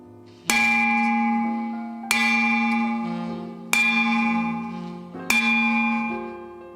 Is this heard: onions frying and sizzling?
no